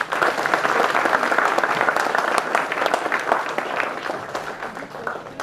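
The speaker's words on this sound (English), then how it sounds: "a session post-lunch hours surely calls for a more energized and a louder clap" An audience at a panel session claps steadily, a dense sustained wash of applause from a large crowd, loud and even throughout with no break.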